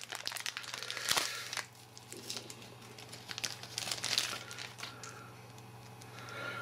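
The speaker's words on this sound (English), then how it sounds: "So in the box we have a lead here, which needs to come out of the plastic to show what it is." A camcorder lead is pulled out of its plastic packaging with close, irregular crinkling and rustling, with a sharper crackle near the start and another burst midway.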